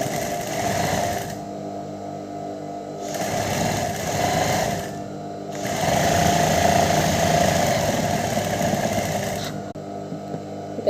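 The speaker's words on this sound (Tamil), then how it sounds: "இந்த நல்ல பக்கத்தையும் வச்சுட்டு ஒரு 1/4 இன்ச்சில் அப்படி தையல் போட்டுக்கணும்." Sewing machine running in steady bursts while stitching a quarter-inch seam on fabric, loud and close, with brief pauses between long runs and no talking.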